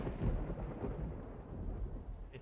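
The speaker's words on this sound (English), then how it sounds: "It's so scary when it rains." Rain and a low rumble of thunder in the video game DayZ, a dense steady downpour with rolling bass, moderately quiet and with no voices.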